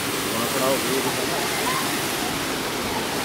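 Steady rushing water flows continuously at Vaishno Devi, Katra, a broad even wash of noise like a clear stream or small waterfall close by, with no breaks.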